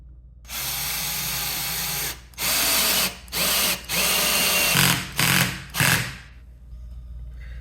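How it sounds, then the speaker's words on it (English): A power drill fitted with a 10mm socket drives a lag bolt for a wall mount, whining loudly up close in one long run then several shorter bursts that stop and start before falling silent. "I got a 10mm socket here that I'm using for my drill"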